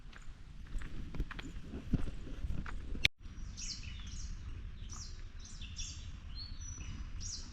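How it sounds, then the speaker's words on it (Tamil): Sparrows chirp in quick, bright bursts, moderately close, over a soft outdoor hush after a sharp click; faint footsteps shuffle early on. "குருவி சத்தத்தை கேட்டிங்களா"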